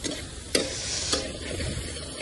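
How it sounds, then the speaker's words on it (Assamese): Pork dry-frying in a wok with no oil, a steady sizzle with scraping stir strokes at regular intervals, close and fairly loud with no talk. "আমাৰ চানাত তেল চেল নিদিয়াকে এয়া কেৰাহীত সুন্দৰকৈ ভাজি লৈছে"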